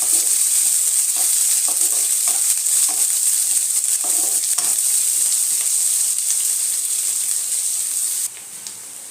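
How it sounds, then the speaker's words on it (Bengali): Constant bright sizzle of chopped onions frying in a pan, close and fairly loud, with occasional soft stirring clicks; no talking. "পেঁয়াজটা হালকা করে লাল লাল করে হালকা ভেজে নেব"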